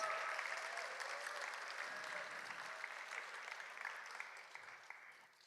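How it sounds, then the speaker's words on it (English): Audience applause at a student film festival awards ceremony, a steady dense round of clapping that gradually tapers off over several seconds, heard alone without talk. "Round of applause."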